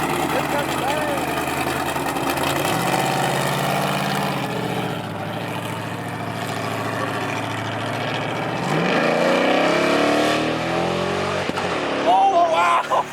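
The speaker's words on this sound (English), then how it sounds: "That's what a drag car can do!" A drag car at a nighttime cruise-in car show rumbles and revs loudly, its engine note climbing and falling through sustained pulls, with crowd voices and chatter mixed in around it.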